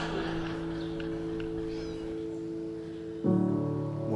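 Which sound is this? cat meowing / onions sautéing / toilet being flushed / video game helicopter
cat meowing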